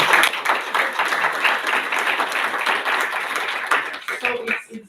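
An audience at a literary conversation event claps in a dense round of applause that fades toward the end, as a voice begins to speak.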